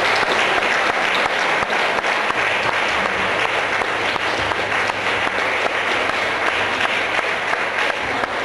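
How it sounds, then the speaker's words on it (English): Sustained round of applause from a town hall meeting audience for the evening's speakers, dense and steady clapping at full volume throughout with no voices standing out. "let's give them another great big round of applause"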